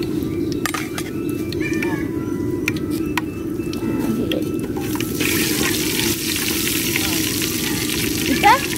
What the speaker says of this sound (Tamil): இப்போ வந்து நம்மளுக்கு நெய்யும் ஆயிலும் சூடாயிடுச்சு. இப்போ வந்து நம்ம நுணுக்கி வச்சிருக்கிற பட்டை, லவங்கம், ஏலக்காய் இப்போ போட போகிறோம்.